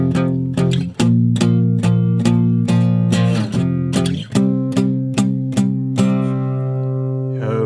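A song's rhythm strummed as power chords on guitar, steady repeated strokes with sustained ringing chords moving between the 1 and 4 changes, loud and close with no talking.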